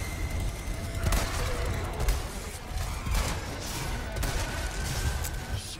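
Gunfire in the Resident Evil 4 video game, several sharp shots spaced about a second apart in a steady rhythm over low game rumble, with no talk in between.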